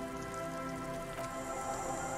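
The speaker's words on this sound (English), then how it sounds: "The reeds by the abandoned campsite hiss and shake in the lazily falling rain." Steady rain falling by reeds at an abandoned sandy campsite in the video game Disco Elysium, a soft, continuous hiss of drops on surfaces that holds at an even level throughout with no voices.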